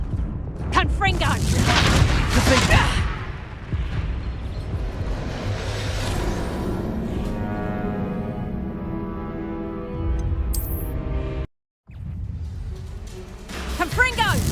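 A Confringo blasting spell goes off in Hogwarts Legacy, heavy booming explosions and whooshing blasts during spell combat, with energetic shouted incantations and a brief cut to silence near the end.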